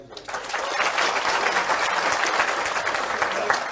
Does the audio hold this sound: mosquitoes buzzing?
no